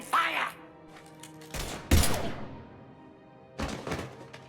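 Bursts of gunfire from the Mass Effect 3 video game, three separate volleys of sharp thuds and cracks with a loud impact in the middle, separated by quieter stretches where game voices and music linger underneath.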